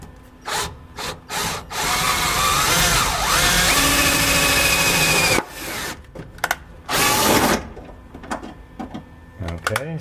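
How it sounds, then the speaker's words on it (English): Power drill boring a hole while an air/water intercooler water tank is fitted in a turbo Mustang, two loud sustained whining bursts of drilling with short pauses, surrounded by handling clatter and knocks. "Might actually be easier just to drill the hole first"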